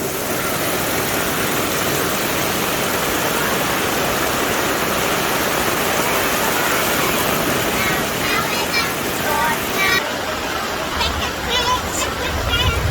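Steady rushing floodwater flows continuously after heavy rain, a dense broadband wash, with faint voices and other noise mixed in toward the end.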